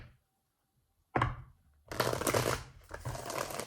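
Tarot cards are shuffled in short bursts: a brief riffle after a quiet pause, then two longer, louder shuffles close by, with no talking.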